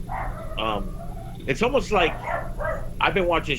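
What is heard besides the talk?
dog barking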